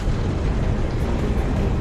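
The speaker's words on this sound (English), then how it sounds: "Grenade launcher." A grenade launcher detonation during a Halo Reach firefight, a dense, loud, rumbling blast that fills the short moment with heavy low-end boom and no voices over it.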